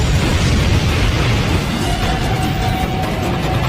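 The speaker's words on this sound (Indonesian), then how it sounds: "Mang Hojun sudah bersiap untuk menyulutnya demi memicu ledakan besar guna membakar tim Dewa Iblis." A big explosion in a film fight scene: a loud, sustained roaring blast with dense broadband rumble filling the whole stretch, steady and unbroken with no voices over it.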